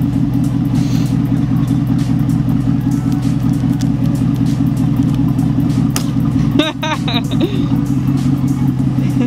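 A car engine hums at a steady idle throughout, close and loud, with a brief louder disturbance midway; a voice is faintly audible over it.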